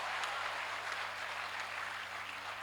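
An audience at a Hindi comedy poetry show claps in a steady, dense patter of applause, fairly quiet and even from start to finish, with no voices over it.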